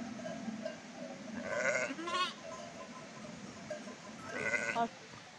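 Sheep bleat a few times at a moderate distance, wavering calls rising above a low ambient rumble of a farmyard.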